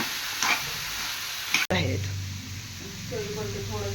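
Chopped gosavale vegetable frying in a pan gives a bright, even hiss for about a second and a half. The hiss cuts off abruptly, leaving a low, quieter simmer.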